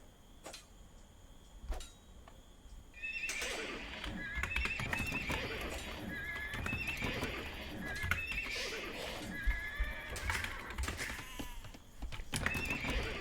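Scout cavalry horses in Age of Empires II during a Malay versus Tatars match on Arabia: whinnies and clip-clopping hooves burst in after a quiet start, mixed with sharp interface clicks and game effects, repeating through the clip.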